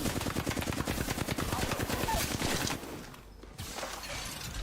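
Rapid automatic gunfire crackles in a ranked shooter match, a dense stream of sharp shots that breaks off briefly before more firing resumes, with faint voice chat underneath.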